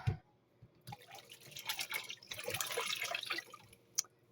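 Bottled water poured over a hand to rinse it, giving a soft, uneven splashing and trickle that builds through the middle and tapers off, with a few drips near the start and end.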